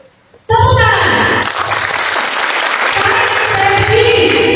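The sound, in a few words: audience applause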